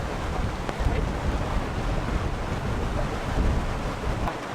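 Steady gusting wind from a squall on the open sea off the Bahamas, heard from a sailboat, roars with broadband rushing and buffeting, and water washes beneath it; no one speaks.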